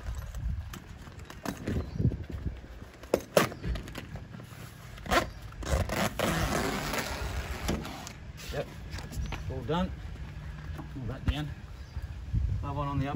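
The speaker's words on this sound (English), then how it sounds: "so you can zip this up now." A zipper is pulled along the fabric tent of a Patriot X1 camper trailer during setup, a rasping stretch among clunks, scrapes and handling noises, with people talking throughout.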